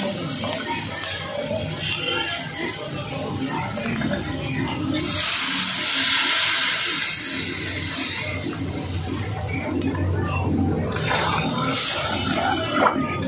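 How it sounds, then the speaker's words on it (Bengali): Water poured into a cooking pot for boiling potatoes with prawns in a Bengali fish dish, a rushing splash swelling for a few seconds midway, with a shorter pour later, amid kitchen background noise. "এবার এতে দিয়ে দেবো জল"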